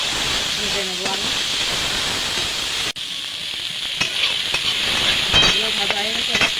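Prawns frying in hot oil in a kadai after being rubbed with turmeric and salt, giving a steady loud hiss and sizzle throughout, with a sharp drop and a few clatters of stirring.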